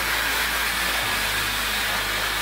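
A Conair hot air round brush blow-dries hair on its highest speed and medium heat, a steady loud whooshing roar of air that holds constant throughout, close up and alone.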